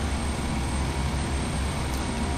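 A simulated airliner taxis in Flight Simulator X, a loud, steady engine drone with a deep low rumble, unbroken for the whole stretch with no voices.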